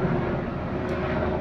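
A helicopter flying overhead near a Navy base, a steady, loud, close engine roar with a continuous low drone filling the whole moment.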